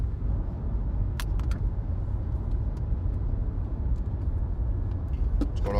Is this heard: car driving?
yes